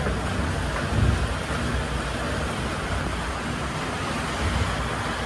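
The first June rain pours steadily on a village house with a tin roof, a dense, loud roar of rainfall with low thunder rumbles underneath, without any voices.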